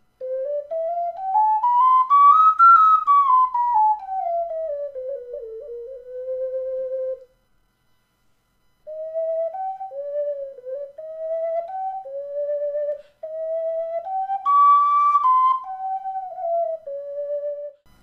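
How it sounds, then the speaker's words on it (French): A pure, breathy alto 12-hole ocarina tuned in C glides up and down in a slow melody, with a short pause in the middle, played alone and close. "Tout d'abord nous avons l'alto 12 trous accordé en do."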